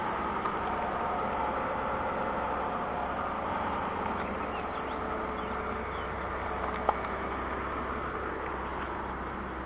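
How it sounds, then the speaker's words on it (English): A high-mileage Mazda 626 idling shortly after a cold start, giving a steady, even engine drone with a faint hum throughout and one brief click near the end. "Take a listen to the engine here."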